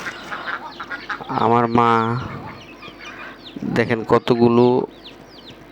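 Ducks and chickens kept at a village home farm in the evening, with quacking and clucking bursts rising in two loud spells close by while someone talks over them.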